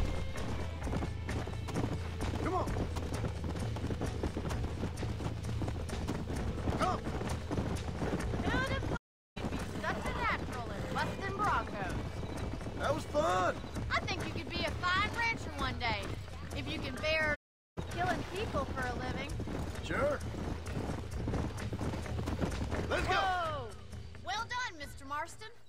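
Horse hooves clip-clop steadily through much of the stretch in Red Dead Redemption, somewhere outside Armadillo, with occasional neighs and whinnies over a constant ambient bed, with brief gaps of silence and a voice talking at times.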